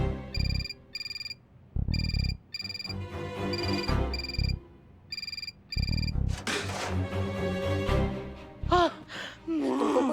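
A telephone rings at a women's police station in a TV comedy, sounding in repeated bursts of electronic ringing with short gaps between them, mixed with people talking and gasping.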